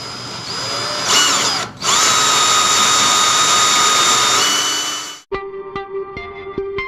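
A power drill fitted with a 1.5 inch hole bit bores into a pillar candle, a loud steady whine lasting about five seconds with a brief dip, then cutting off into a few lighter clicks and rattles.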